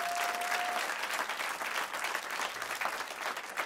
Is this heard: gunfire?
no